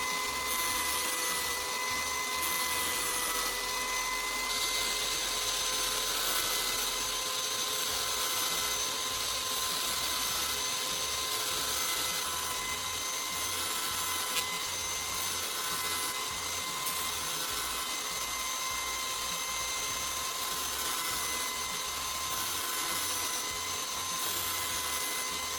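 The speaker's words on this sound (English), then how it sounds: "The vise helps keep the grinder stable and vibration-free during operation" An angle grinder fitted with a CD grinding disc sharpens a knife clamped in a vise, giving a steady, loud high-pitched whine that holds without a break throughout, with no talk.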